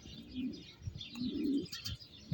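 A pigeon coos in a loft, soft rolling low calls repeating close by, with a few small chirps and light rustling around them and no talk.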